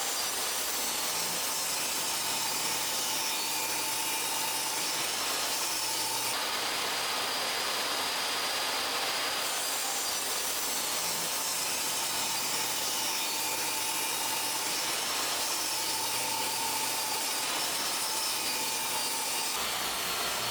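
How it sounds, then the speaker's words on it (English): A table saw trims a few millimeters off the edges of lumber for an outdoor bench, producing a steady, moderately loud whirring cut that continues without a break and has no talking. "So I'm using my table saw to cut a few millimeters of each side to get the sharp edges."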